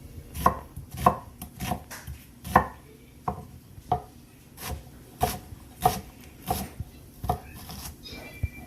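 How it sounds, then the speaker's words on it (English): An onion being chopped with a knife on a board for breakfast potatoes: a series of about a dozen crisp, fairly close knife chops at an uneven pace, with quiet gaps between, no talk. "you're just gonna chop it however big you want"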